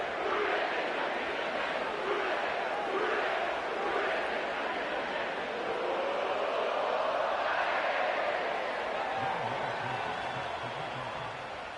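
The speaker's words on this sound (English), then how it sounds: "sellout crowd has arrived at Paycor Stadium in Cincinnati" Sellout football crowd at Paycor Stadium in Cincinnati, a broad, steady roar of thousands of voices filling the whole stretch at constant loudness, with a faint low chant or horn near the end.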